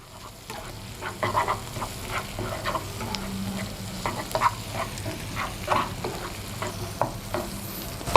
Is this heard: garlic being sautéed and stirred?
yes